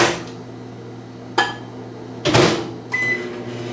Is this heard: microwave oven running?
yes